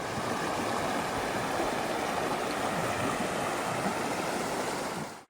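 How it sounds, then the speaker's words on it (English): A small creek and waterfall flow at the end of a quiet path: a steady, full rush of splashing water, close and unbroken, with no voices, cutting off abruptly at the end. "At the end of the path was this amazing little creek and waterfall."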